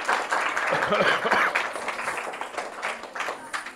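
Students in a lecture hall break into applause, a dense patter of hand claps that swells early and then tapers into scattered claps, with some voices murmuring underneath.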